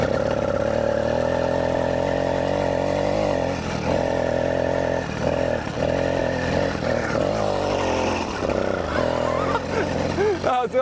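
Engine of a motorized mountain bike revving hard during a wheelie, a steady loud buzzing drone with wavering pitch, surging and dipping as the throttle shifts, close and continuous for about ten seconds.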